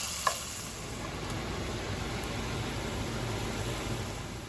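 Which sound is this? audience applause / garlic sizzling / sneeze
garlic sizzling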